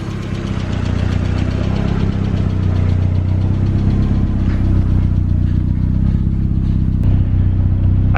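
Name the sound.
turbo Mazda Miata engine idling with slight lifter tick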